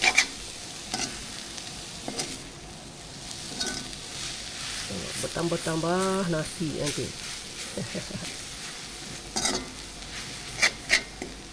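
Steady sizzle of BBQ chicken wings frying in a pan, with occasional clinks and scrapes of stirring, while a person talks briefly over it.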